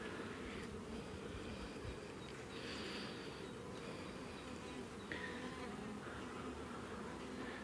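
Honeybees at an opened hive drone in a dense, steady buzz that is soft and continuous throughout, with no voices.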